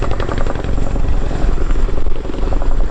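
Military aircraft, a helicopter by its sound, flying a display at the RIAT 2019 airshow: a loud, close, continuous rotor chop and engine roar that holds steady throughout with no talk.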